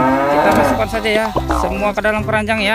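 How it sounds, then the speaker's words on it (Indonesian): A cow moos near the listener, drawn-out and voiced, while someone talks over it almost the whole time. "Ternyata ada sapi lagi teman-teman nih."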